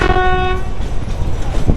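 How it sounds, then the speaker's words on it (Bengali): A train at Kalka railway station sounds a brief tonal horn over the rumble of the platform, then the horn stops and the station's low background noise continues. "এই হচ্ছে কালকা রেলওয়ে স্টেশন"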